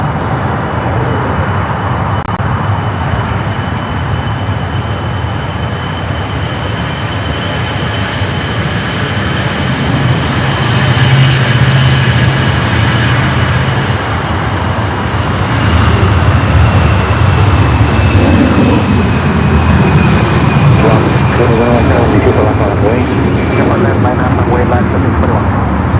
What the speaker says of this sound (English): Delta A319 taking off there, 24 left.